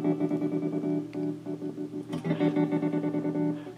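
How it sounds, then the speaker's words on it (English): A multi-effects pedal running a pattern tremolo modulation effect, the processed guitar tone chopping on and off in a stuttering, Morse-code-like rhythm, steady and fairly loud with no voice over it. "It's a pattern tremolo."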